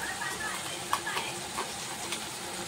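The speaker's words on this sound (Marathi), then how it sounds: "यात आपण जे कांदा आणि लसूण वाटून घेतलेलं ते टाकून घेऊया." Onion and garlic paste sautéing in a hot pan for chickpea chole, a soft steady sizzle with a few stirring clicks and scrapes, fairly quiet throughout.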